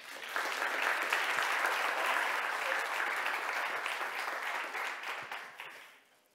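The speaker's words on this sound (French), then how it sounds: "On les applaudit." An audience applauds the three Women in Tech finalists at the MTL Tech Awards 2023, steady, full clapping that holds for about six seconds and then tapers off at the end.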